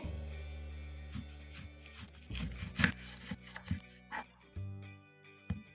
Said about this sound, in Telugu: ఇలా ముక్కలు కోసుకోవాలండి.